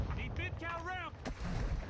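A few sharp gunshot cracks from Call of Duty: Modern Warfare II ring out over low game ambience, with a tonal whistling sweep just before the loudest report near the end.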